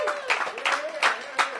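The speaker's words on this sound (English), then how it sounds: "Let's give that a round of applause." Crowd clapping at an outdoor ribbon-cutting for a community center, brief and steady beneath a speaker's voice continuing over the applause.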